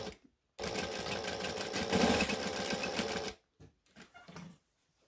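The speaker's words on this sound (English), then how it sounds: "we're just going to top stitch 1/8 of an inch from the edge" A sewing machine top stitches a bag lining edge an eighth of an inch in, one steady close run of about three seconds followed by a few short taps and clicks.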